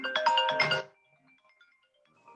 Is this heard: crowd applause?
no